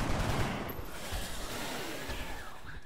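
Rapid bursts of gunfire from the XCOM video game crackle continuously, loud and dense, with a whooshing sweep partway through and no talking over it.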